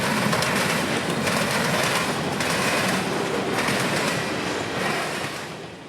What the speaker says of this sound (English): Waiting at Briceville would be our final train of the weekend